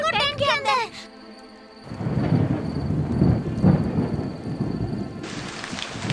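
Heavy rain pours steadily while deep thunder rumbles through it in a Hindi children's cartoon, loud and close; a brief burst of a voice comes just before.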